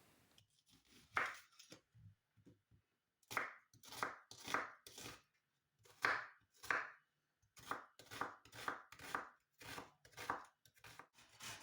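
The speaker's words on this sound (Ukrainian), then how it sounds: "Далі нарізаю кубиками три середніх за розміром цибулини." Quick knife strokes dicing three onions tap against a cutting board in rapid bursts, a steady rhythm of close, crisp chops with brief pauses between runs.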